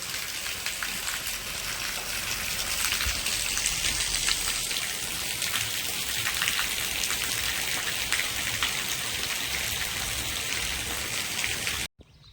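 Steady rain pours down near a house during village building work, water running off the roof edge into a pit below, a dense continuous hiss that holds evenly before cutting off abruptly near the end.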